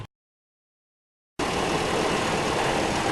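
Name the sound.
engine running during oil change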